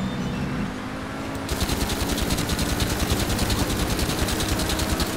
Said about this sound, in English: That sounds like the machine pistol.